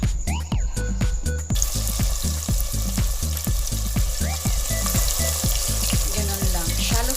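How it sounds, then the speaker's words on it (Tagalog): Chicken pieces shallow frying in oil for an Indian curry, a loud, steady sizzle with crackling pops that runs the whole time, alongside regular stirring or scraping clatter in the pan. "Lulutuin na natin ang ating chicken. So, i-shallow fry ko siya."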